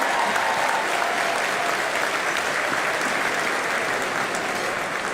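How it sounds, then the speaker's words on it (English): An audience applauds Mayor Sylvester Turner at his final State of the City address, a dense, steady wash of clapping from a large crowd that holds loud and even throughout. "give the mayor a big round of applause"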